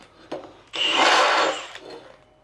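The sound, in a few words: deburr tool smoothing cut metal edge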